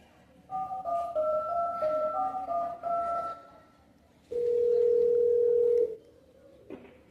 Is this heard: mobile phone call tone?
yes